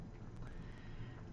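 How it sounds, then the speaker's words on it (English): Fidgety horses ahead whinny with a drawn-out neigh and shuffle their hooves, a faint, distant sound over steady low background noise. "You're just kind of hearing that some of the horses are a little fidgety up ahead"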